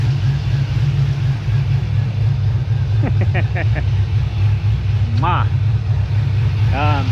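A car engine idling steadily with a deep, even low rumble throughout, while people talk briefly over it near the end.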